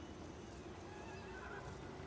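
A horse neighs in the video game Total War Warhammer 3 during a swamp campaign, a faint whinny set inside a steady, dense battle-ambience wash.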